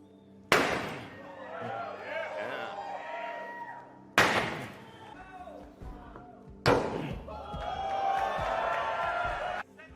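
A sledgehammer strikes a regular truck door three times, each a loud metallic slam followed by ringing and crowd noise and cheering at a vehicle unveiling, with talk in between.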